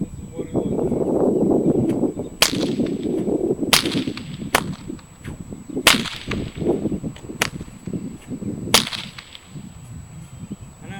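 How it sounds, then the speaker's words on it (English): An 8-foot bull whip cracks five times, each crack sharp and loud and spaced a second or two apart, with a person talking between the cracks. "This is an 8-foot bull whip."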